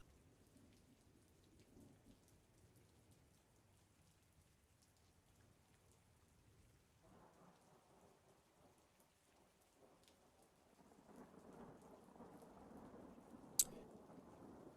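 Rain falls steadily outside an open window with low rumbling like distant thunder, quiet at first and growing louder and denser toward the end, with a brief sharp crack near the close.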